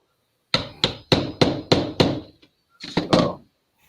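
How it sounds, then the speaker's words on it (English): A hammer strikes a metal part with bearings inside, about ten sharp, close blows in a steady rhythm, six in a row, a short pause, then a few more. "Oh, it's got a hammer out. That's dangerous."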